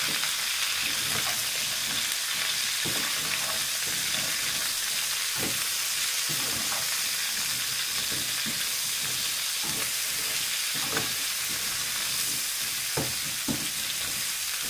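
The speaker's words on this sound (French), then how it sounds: "Je vais maintenant ajouter mes courgettes coupées préalablement en rondelles. Ou demi-rondelles. Que je vais mélanger." Sliced zucchini half-rounds sizzle in a frying pan, a steady, even hiss of frying punctuated by soft scraping knocks as the slices are stirred throughout, fairly quiet and without any talking.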